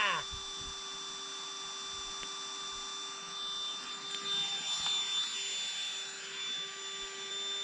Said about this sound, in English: This little pump here came with it.